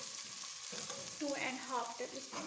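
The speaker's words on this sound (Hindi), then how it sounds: "एक प्याज चॉप की हुई स्मॉल साइज़ की और 4 से 5 क्लोव्स लहसुन के चॉप करके ऑयल में फ्राई कर रहे हैं" Chopped onion and 4 to 5 cloves of chopped garlic fry in about 2.5 tablespoons of oil in a pan, giving a steady close sizzle with stirring scrapes, while a voice speaks briefly over it.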